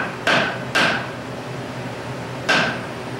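Three sharp metal-on-metal hammer blows drive a lathe center into a chestnut oak blank, two in quick succession and then a third after a pause, each ringing briefly and close.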